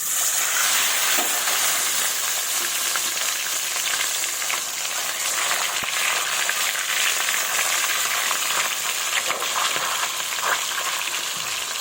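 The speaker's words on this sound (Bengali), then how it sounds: "প্রথমে আমি মাছের মাথাটাকেই ভাজবো।" A fish head frying in plenty of hot oil, giving a loud, dense, continuous close-up sizzle that holds steady throughout with a few faint crackles.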